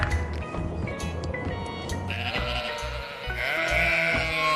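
Sheep bleating in a string of wavering, harmonic calls, fairly loud and close, one after another with a backing music track underneath.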